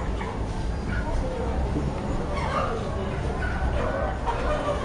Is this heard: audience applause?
no